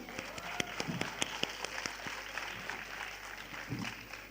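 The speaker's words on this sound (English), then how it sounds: "Children, just give a very loud cheer and a good clap for your" Crowd of children at a youth drama festival clapping and cheering for their teachers, a dense steady wash of applause with sharp individual claps standing out, moderately loud and sustained throughout.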